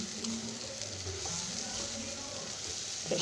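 Tamarind leaf curry sizzles steadily in a pan as it is stirred and mixed, giving a continuous hiss with soft scraping, fairly faint and alone without talking.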